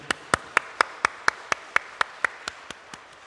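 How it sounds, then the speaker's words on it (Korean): In a church service, a single clear clapping pattern rings out: about thirteen evenly spaced, crisp claps at a steady beat, gradually softening toward the end in a quiet room. "우리 모두 수고하신 분들께 박수로 한번 영광 격려 돌리겠습니다"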